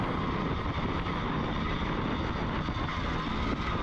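A Husqvarna 390 motocross bike runs a lap of a one-mile GP-style dirt track, its engine roaring loud and steady throughout with no pauses.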